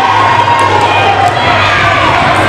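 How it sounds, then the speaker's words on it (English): A crowd roars and cheers in a university sports hall during a varsity badminton match, a loud, continuous wall of shouting and cheering that holds at full strength throughout. "hearing the roar of a crowd behind you can't help"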